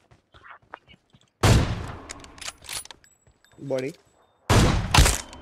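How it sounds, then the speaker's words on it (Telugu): Sniper rifle fire in the video game PUBG, two loud sharp shots with rumbling tails spaced a few seconds apart, with someone talking briefly between them. "చలో అయితే నేను స్నైపర్ షాట్ తీస్తా మరి"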